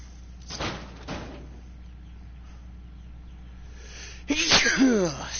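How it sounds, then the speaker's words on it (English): A person sneezes twice in a quiet room, two sharp bursts close to the microphone, then after a pause a louder, longer third sneeze near the end. "Had to pause to sneeze."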